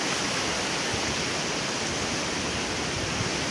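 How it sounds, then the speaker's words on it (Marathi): Sea waves washing in on a Konkan beach, a loud, steady broadband roar of surf with no distinct breaks, heard alone. "हे बघा लाटा येतात सर्व"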